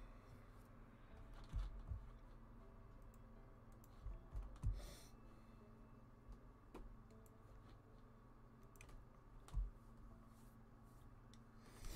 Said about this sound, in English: Now I'll just type in the word eye.